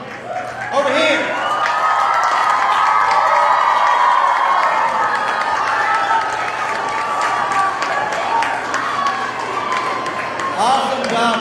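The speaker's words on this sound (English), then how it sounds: "Let's give y'all a big round of applause." An audience applauds students at a school event, a dense wash of clapping and cheering that starts abruptly, holds steady for about ten seconds and then fades, with a few voices mixed in.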